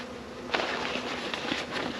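Honey bees buzz around beehives during hive maintenance, a steady soft hum with individual bees passing close, faint and without talk.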